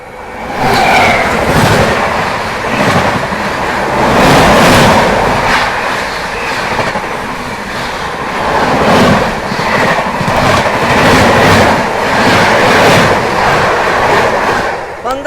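An Amrit Bharat Express train runs on an Indian railway in a steady, loud roar with rhythmic clickety-clack of wheels over rail joints, continuous for the whole stretch with no talk.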